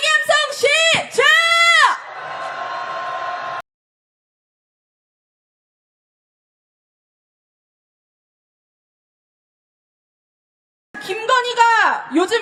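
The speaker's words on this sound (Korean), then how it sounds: "윤석열 탄핵의 함성 시작!" Shouted chants from a crowd at a rally calling for the impeachment of President Yoon Suk-yeol: loud voiced bursts for about two seconds, a noisy wash, then a long silence before the shouting returns near the end.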